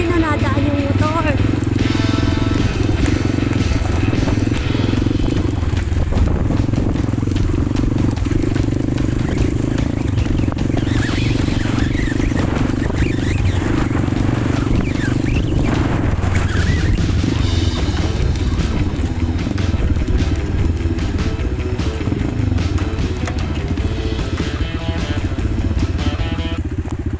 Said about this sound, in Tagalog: Ayun, ayun na nadaan yung motor.